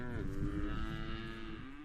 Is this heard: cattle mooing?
yes